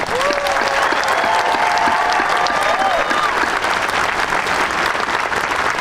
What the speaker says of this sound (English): how about we give a nice, large, bubbler round of applause to the class of 2023